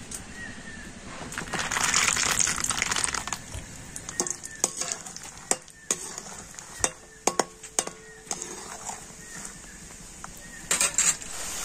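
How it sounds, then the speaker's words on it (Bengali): Peanuts fry and sizzle in a pan as they are stirred. A steady crackle runs under the clip, broken by many sharp metallic scrapes and clicks of the utensil against the pan. "তো দেখুন চীনা বাদামগুলো ভেজে নিয়েছি"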